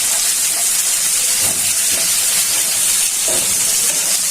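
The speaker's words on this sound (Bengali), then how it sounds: "গরম তেলে পেঁয়াজগুলো কুচি করে পেঁয়াজগুলো ছেড়ে দিচ্ছি।" Chopped onions sizzle in hot oil for a golsha or tengra fish do-peyaza, a steady close hiss that runs through the whole stretch with faint clicks and pops and no talking.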